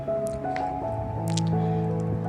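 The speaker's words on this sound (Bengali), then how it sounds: "ভাজতে ভাজতে মাংসের কালারটা এই রকম বাদামি এসে যাবে তখন বাটিতে যে মশলাটুকুও রয়েছে সেটা ঢেলে দিলাম" Spice paste from a bowl is poured onto browned chicken chap frying in a pan, giving soft wet squishing and dripping sounds over light background music.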